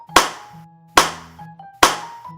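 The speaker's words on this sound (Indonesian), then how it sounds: "kemudian tepuk tangan 3 kali." Three separate hand claps, evenly spaced about a second apart, each sharp and close, with faint tonal background sounds in between.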